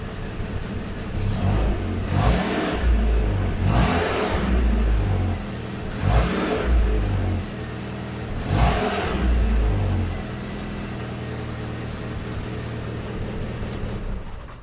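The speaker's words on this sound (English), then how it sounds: "there is a definite little chuff coming from the exhaust" An MG MGF 1.8 K-series engine revs indoors in repeated short bursts, each throttle blip rising then falling back to a steady idle, with a faint chuffing from a leaking exhaust manifold gasket.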